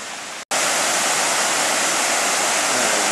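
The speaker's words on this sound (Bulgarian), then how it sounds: "където беше водопада" Steady, full broadband roar of a waterfall, loud and continuous, briefly cutting out for a split second near the start before resuming unchanged.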